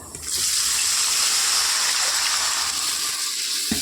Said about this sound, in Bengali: স্বাদ পরিমাণ মতো জল দিয়ে দেবো